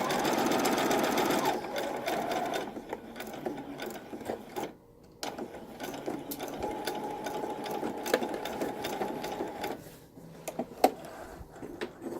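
A sewing machine runs a stitch line with automatic back stitching on a girl's Civil War era dress, a steady, fast mechanical whir with brief pauses and restarts, near and fairly quiet, with no talking.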